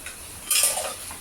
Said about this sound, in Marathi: तर आता आपण यात आपला वटाणा टाकून घेऊया